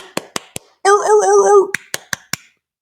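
A man imitates clapping seals with a run of sharp, rhythmic claps around a brief, barking vocal honk, close and loud.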